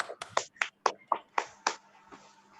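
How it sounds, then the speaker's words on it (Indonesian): Sparse clapping in a biology classroom for a group presentation, about eight or nine sharp separate claps close by, quickly fading out. "Silakan tepuk tangan dulu"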